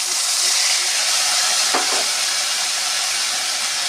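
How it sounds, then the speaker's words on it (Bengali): Black nigella seeds (kalo jeere) crackle into hot oil left from frying bhola fish, a loud, steady sizzle that holds evenly with no pauses. "এতে ফোড়ন দেবো কালো জিরে ছিলাম সেগুলো দিয়ে দেবো"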